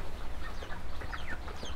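A group of broiler chickens, about a month old, clucks and chirps nearby in a busy, overlapping chatter of short calls.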